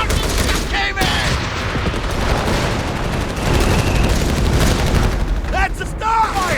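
Machine gun fire from a Company of Heroes 3 4v4 battle: dense, steady bursts and booming war-game effects run continuously and loud, with a few sharp whizzing shots near the start and end.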